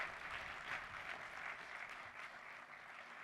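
Applause from a crowd at a Samsung CHIPS Act facility event, a continuous, even wash of clapping heard from a distance at a fairly low level, with no speech over it.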